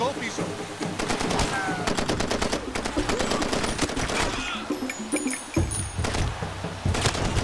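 Rapid bursts of automatic gunfire from an enemy in the PC shooter Far Cry 2, loud and dense with repeated cracks, a short pause near the middle and further volleys toward the end.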